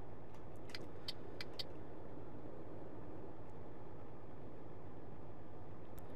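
A car passing in the truck-driving game Euro Truck Simulator 2, heard as a steady low engine and road rumble with a few light metallic clicks near the start, no talk.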